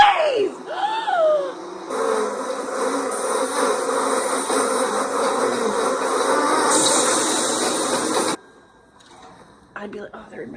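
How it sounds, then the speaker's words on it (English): A loud, dense swarm of bees drones steadily for several seconds in a film scene, a thick buzzing wall that follows an opening scream and cuts off abruptly into near silence. "Oh my god, the bees!"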